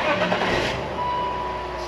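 A worn, damaged car's engine cranks and catches, settling into a steady idle hum for under two seconds.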